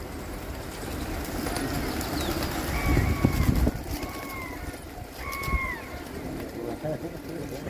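Pigeons at a pigeon-keeping gathering give three short, rising calls amid a steady outdoor background, with bursts of flapping and rustling, while people talk nearby.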